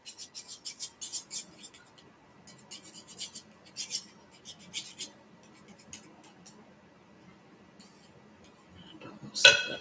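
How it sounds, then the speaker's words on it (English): A metal spoon clinks and scrapes against a bowl and utensils in a home kitchen while baking a birthday cake, with bursts of light metallic rattling, a quieter stretch, and a louder clatter at the end. "I'm gonna grab a spoon right quick."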